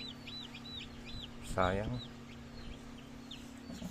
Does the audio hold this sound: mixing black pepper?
no